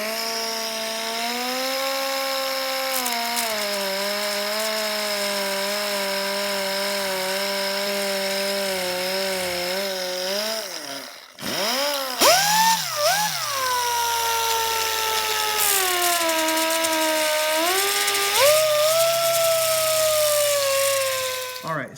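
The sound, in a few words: small power sander sanding burned veneer tabletop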